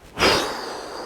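A narrator's voice imitates a hare snoring with a single breathy, rasping inhalation that swells quickly and then trails off slowly, close and alone.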